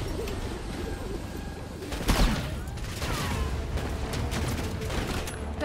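Gunfire in Call of Duty: Black Ops 6 crackles as dense, continuous shooting, with a sharper loud burst partway through over a constant busy battle din.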